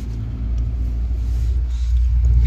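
A Volvo 9600 sleeper bus pulls away with a loud, steady low engine rumble that builds slightly, heard from inside the cabin with no one speaking.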